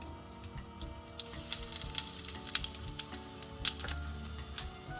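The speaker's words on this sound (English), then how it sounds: "So that's the mustard spluttering." Mustard seeds crackle and splutter in hot oil, a dense run of sharp, irregular pops over a steady sizzle, close and fairly quiet, with no voices.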